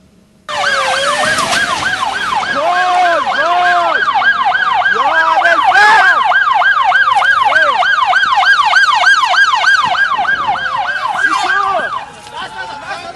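A loud ambulance siren wails close by on a roadside, its rapid rising and falling tones repeating continuously for about eleven seconds over road noise, then cutting off abruptly.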